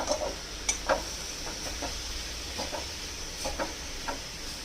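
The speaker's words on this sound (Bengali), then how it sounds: "এবারে এটাকে আস্তে আস্তে ভাজতে শুরু করব" Chopped papaya dry-frying in a pan with no oil over low flame, giving a faint steady sizzle with a few soft stirring scrapes and clicks.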